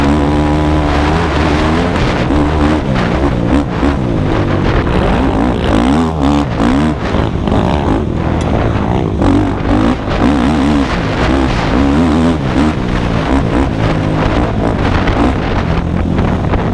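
A quad ATV is ridden hard over bumpy ground with a loud continuous engine roar, heavy wind buffeting on the microphone and jolting fluctuations throughout, with no speech.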